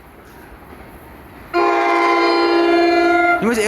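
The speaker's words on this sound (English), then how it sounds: "We're seeing train 6647 from New York Penn Station to Dover" An NJ Transit train passing Mountain Station in South Orange, New Jersey sounds a loud, sustained multi-tone horn blast that cuts in suddenly over a low rumble, then bends in pitch as the horn ends.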